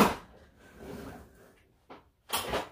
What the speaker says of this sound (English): So you just pull the drawer open here